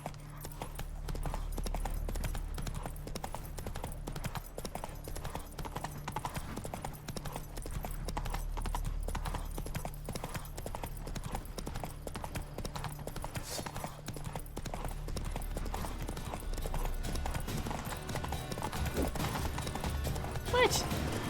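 Roach the horse galloping in The Witcher 3, a steady rapid drumming of hooves that runs the whole time under game music and ambience, with occasional talk.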